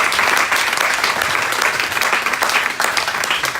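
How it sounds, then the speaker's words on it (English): Steady, dense audience applause fills the room at full volume for several seconds, many hands clapping together without a break after a speaker's talk at an event. "Round of applause, ladies and gentlemen."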